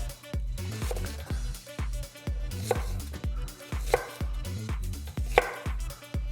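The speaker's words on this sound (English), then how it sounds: "we're gonna take our onion, make sure both sides we kind of chop off the tops and bottoms" A knife chops through an onion on a cutting board, its steady, regular strikes landing about twice a second, close and crisp, with no voices.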